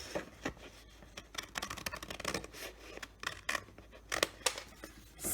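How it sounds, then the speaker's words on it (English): Scissors cutting paper along a drawn line while making a frame, a series of soft crisp snips and rustles, quiet and close. "We need to cut right here."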